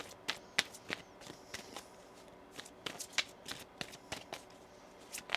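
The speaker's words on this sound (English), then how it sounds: "One more shuffle here." A tarot card deck is shuffled by hand in a steady run of crisp riffling bursts and sharp card snaps, close and fairly quiet, with no talk.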